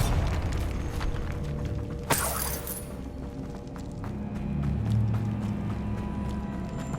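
A Bombarda spell explosion in Hogwarts Legacy, a single sharp blast with a brief shattering burst early on, then a low rumbling tail under steady game ambience.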